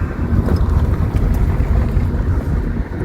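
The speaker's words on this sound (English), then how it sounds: "we're just kind of driving around on the back roads of Makin" A 1972 Dodge D200 pickup truck rolls along rural back roads past farmland, its engine a steady low rumble mixed with road and wind noise, constant and close throughout with no talking.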